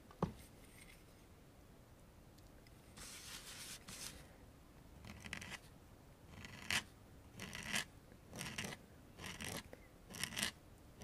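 Calligraphy nib dragging across paper while drawing, with faint close scratchy strokes coming in short irregular bursts over a quiet background.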